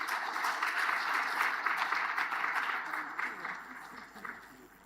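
An audience at an African agriculture science week assembly applauds with steady, moderately loud clapping that tapers off toward the end, with speech mixed in.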